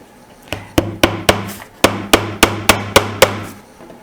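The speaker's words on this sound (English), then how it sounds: "we're going to go around and hammer every single nail into this template" A hammer drives nails into a wooden template with about eleven sharp, close strikes in a fairly even rhythm. A short pause breaks the series partway through.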